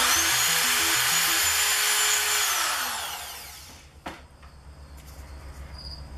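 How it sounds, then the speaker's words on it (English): A power drill whirs loudly and steadily as it drills holes through stacked wooden stir sticks, then winds down and stops. A sharp click follows, then near quiet. "drill a hole not too close to the edge, approximately 1/4 of an inch from the edge of the stir sticks"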